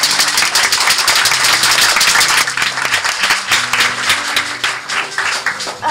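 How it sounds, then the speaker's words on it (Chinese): Warm applause from an audience at an awards ceremony honoring outstanding social workers in Keelung, dense steady clapping throughout with cheering energy. "我们给他们一个热烈的掌声"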